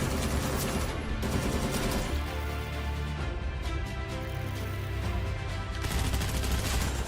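Rapid automatic gunfire from a rifle in the shooter game Arena Breakout, sustained bursts with dense repeated shots and a heavy low rumble, loud and continuous throughout.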